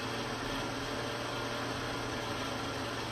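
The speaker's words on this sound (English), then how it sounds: "So I'm done blending here." A kitchen blender runs steadily while blending carrot juice, a continuous dense whir close by, with no talk over it.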